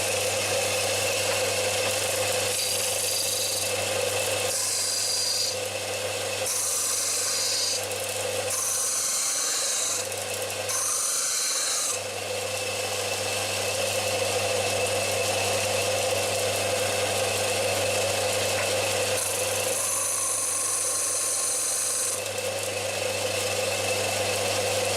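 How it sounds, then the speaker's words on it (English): A generic 230 V disc and belt sander runs steadily on its disc, a loud continuous motor whine and hum with a raspy abrasive texture, its tone shifting slightly in several stretches as if something is pressed to the disc. "Start with the disc sander."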